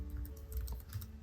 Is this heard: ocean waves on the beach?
no